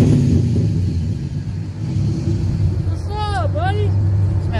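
An LS-engined Chevrolet Blazer on new Hoosier tires drives with a loud, steady, heavy engine rumble heard from inside the cabin, joined by a brief high whistling sweep partway through.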